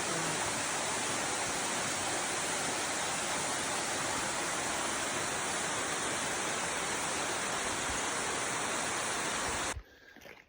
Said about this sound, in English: the whole rock face has water pouring over